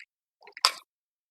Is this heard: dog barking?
no